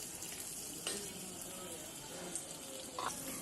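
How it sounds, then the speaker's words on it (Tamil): Onions and tomatoes for a fish curry sauté in a clay pot over a clay stove, producing a soft, continuous sizzle with a few faint stirring knocks. "அதையும் மொத்தமாக சேர்த்து நல்லா வதக்கணும்"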